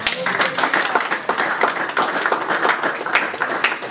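Church congregation applauding during a French-language sermon: a sustained wash of dense clapping at steady loudness throughout, with voices mixed into the applause.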